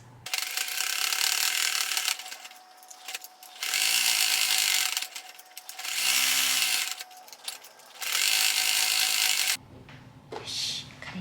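A sewing machine runs tacking stitches around the edge of a small fabric scrap, whirring in four or five even, close bursts separated by short pauses and clicks, with no talking.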